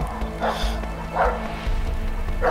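A dog in the co-op video game A Way Out attacks, giving several loud growling bursts and yips at regular intervals over a steady low game background.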